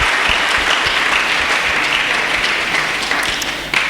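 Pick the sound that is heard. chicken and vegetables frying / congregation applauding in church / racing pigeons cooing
congregation applauding in church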